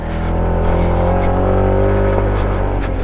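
A SYM ADX 125 scooter engine labours steadily up a hill, a loud, close, continuous drone with a rising whine throughout.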